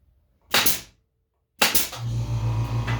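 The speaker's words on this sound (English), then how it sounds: "There goes the air compressor." A shop air compressor kicks on with a sharp bang, then settles into a loud, steady pulsing drone. Before it starts, a separate sharp pop of a pneumatic nail gun firing sounds once.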